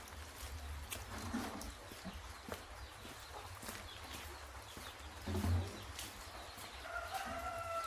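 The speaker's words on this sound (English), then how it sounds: "the chicken are out for someone that come out due to the rain" Chickens cluck and a rooster crows faintly outdoors in a flooded African slum after heavy rain, scattered calls over a quiet ambient background.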